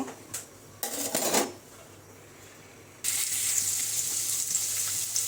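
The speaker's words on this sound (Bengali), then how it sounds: "তো এখন আমি বাঁধাকপি ভাজিটাই চুলায় দিব।" Cabbage stir-fry going onto the stove: a few short clanks of pots and utensils, then a loud, steady sizzle that bursts up and carries on evenly as the ingredients hit the hot pan.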